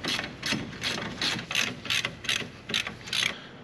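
A ratchet wrench cranks on Jeep JL/JT ball joints in a run of about ten quick, close, evenly spaced clicking bursts, loud and alone with no talking.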